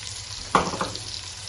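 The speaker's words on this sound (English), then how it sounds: "I give it a stir." A single brief stir of a simmering pot of Ghanaian jollof just after a bay leaf goes in, giving a short scraping swish over a soft, steady bubbling sizzle, close and moderately loud.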